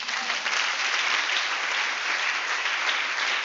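A church congregation claps in acclaim of the Lord, producing dense, steady applause from many hands that fills the room evenly without pause.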